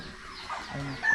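Chickens on a Filipino homestead, including black-feathered hens, cluck softly in short, close bursts over a low background murmur, growing a little louder toward the end.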